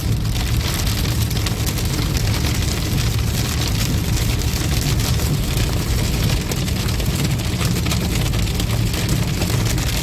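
Heavy rain and hail drum steadily and loudly on a car during a storm on Route 66, a dense continuous clatter with no voices.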